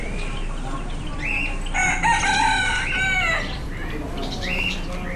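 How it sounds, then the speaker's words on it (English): Chickens cluck and a rooster crows amid steady background bustle at a market in Brunei, with wing flaps and scattered bird calls close by. "I guess that's what these are, chickens."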